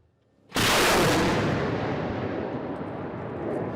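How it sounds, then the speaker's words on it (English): A Soviet-built Grad rocket launcher fires artillery rockets near Kherson, a sudden loud roaring blast that holds as a sustained rushing roar for several seconds, close and overpowering. "Ukrainian military are firing at positions near Kherson city"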